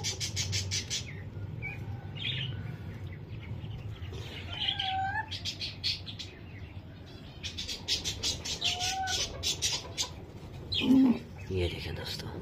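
A pigeon in a small home zoo coos softly in low, rolling phrases, mixed with scattered bird chirps while a person talks nearby.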